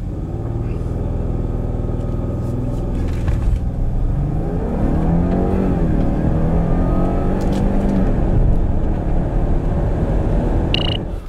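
A 2019 Lincoln Nautilus 2.7T AWD accelerates hard, its engine rising in pitch through gear changes as a loud, steady rumble heard from inside the cabin.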